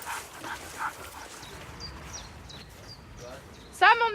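Dogs barking during an outdoor training session, several sharp yips and barks scattered over background noise with people talking, ending in one loud nearby bark.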